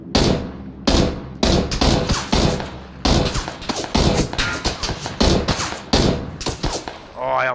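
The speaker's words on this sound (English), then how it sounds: "I don't know where that other gunshot's coming from" Rapid bursts of gunfire in the video game PUBG, loud, repeated volleys with short gaps between them, alongside game sounds and a brief voice near the end.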